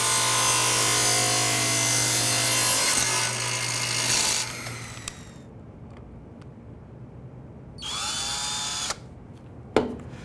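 A table saw cuts a taper on a wooden table leg, a loud whining blade biting through wood that then winds down, followed by a short second burst of cutting and a final knock.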